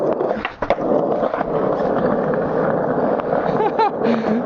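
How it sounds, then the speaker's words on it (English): Skateboard wheels roll steadily over pavement at a hidden skate park, a continuous close rumble with a few sharp clacks near the start and brief voices mixed in toward the end. "Let's go have some fun and skateboard."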